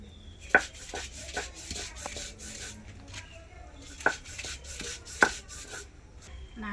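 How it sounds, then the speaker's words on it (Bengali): Dried grated coconut, moistened with a little water, is ground by hand with a rough rubbing and scraping rhythm, marked by a few sharp knocks, close up and with no talking. "নারকেল তো ভালো বেটে নিয়েছি"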